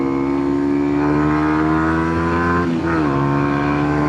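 A Kawasaki Ninja 125 motorcycle pulls hard toward top speed, its engine a loud, close, steady high-revving drone with a brief dip partway through like a gear change before it climbs again.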